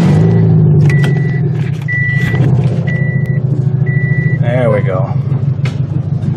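A loud demolition derby car engine, running low on fuel, idles roughly and steadily throughout with a deep rumble, while a person speaks briefly over it and faint beeping tones recur in the background.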